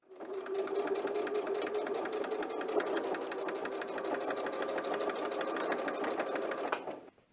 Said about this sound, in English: you can go ahead and take that over to the sewing machine